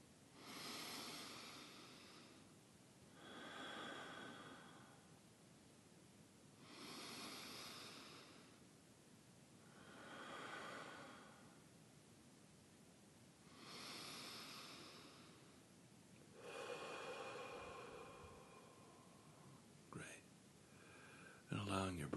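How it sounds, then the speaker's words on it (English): Slow, deep breaths during a live-streamed guided meditation session, drawn in and released in five long, even swells roughly three seconds apart, soft and close, with a faint click near the end. "breath now to return to your usual way of breathing"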